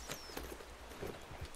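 Horse hooves clip-clopping at a walk in Red Dead Redemption 2, a few soft, irregular thuds spread under a steady game soundscape with a faint voice nearby.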